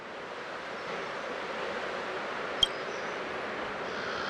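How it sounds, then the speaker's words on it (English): Ocean waves wash in a steady, soft, rushing noise in the video game Honkai Star Rail, with a brief faint click partway through and no speech. "I can still clearly hear the sound of the waves."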